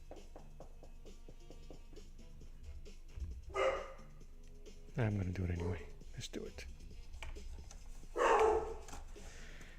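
A pet dog barks in three short bursts spaced a few seconds apart, fairly close, while a person talks over and between them indoors.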